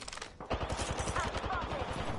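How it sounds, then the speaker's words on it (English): Gunfire in the video game Apex Legends, a dense run of rapid shots aimed at the player, rattling steadily through most of the clip after a brief lull, with game sounds mixed in and no talk. "I'm getting shot at."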